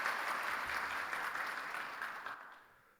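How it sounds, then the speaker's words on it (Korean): Applause from a church congregation welcoming a missionary during a Sunday worship service, a steady broad wash of many hands clapping that fades out over the final half-second. "우리 박수로 환영하겠습니다."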